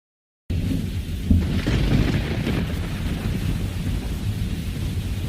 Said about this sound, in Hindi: और ये बारिश तो रुकने का नाम नहीं ले रही।